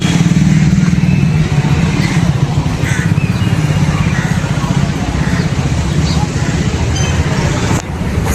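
Cars and motorcycles rushing along Marine Drive in Mumbai, a loud continuous engine drone and road roar with passing vehicles close by and a person's voice faintly mixed in.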